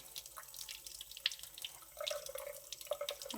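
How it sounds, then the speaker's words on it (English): Water from a kitchen tap runs faintly over a defrosted peeled tomato, with soft splashing, light drips and a gentle sink trickle that grows slightly fuller toward the end. "I'm just going to keep rinsing it a little bit."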